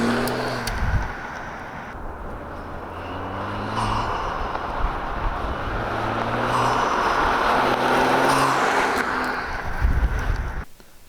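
Steady engine drone from a BMW with the N55 engine and an aFe Magnum FLOW Pro Dry S drop-in air filter, running continuously at a moderate level for about ten seconds.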